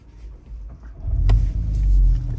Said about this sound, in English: Let me start up the engine real quickly.